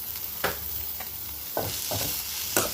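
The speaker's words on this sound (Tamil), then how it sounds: "இப்போ இந்த மல்லித்தலையை தூவிட்டு அதையும் சேர்த்து மிக்ஸ் பண்ணிக்கலாம்." A spatula stirs and scrapes a cabbage stir-fry (poriyal) with coriander leaves in a pan, making repeated scraping strokes over a steady, close sizzle of frying.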